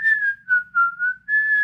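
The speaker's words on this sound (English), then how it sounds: "I like the whistling in this part." Melodic whistling from a Snow White movie scene carries a bright, wavering tune through a short phrase of several notes, with brief pauses between them and faint low hum underneath.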